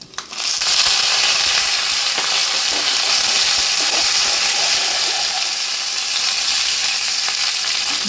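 Curry leaves dropped into hot oil with mustard and fenugreek seeds for tempering a kaalan curry, an abrupt burst of loud crackling sizzle that settles into a steady hiss, close by, with no talk.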